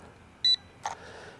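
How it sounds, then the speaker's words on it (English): An SMRC ICAT7 Pro drone finishes its gyro calibration with one short, clear electronic beep. A brief click or clatter follows, then a low background hiss. "And we heard a beep there"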